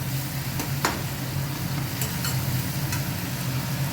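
Vegetables for sambar sautéing in a pan give a steady, close sizzle and soft stirring scrapes throughout, with a few sharp utensil clicks and a low hum underneath.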